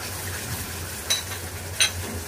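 Whole spices dropped into hot oil with browned onions in a pan for prawn malai curry, a soft continuous sizzle with two brief sharp crackling bursts.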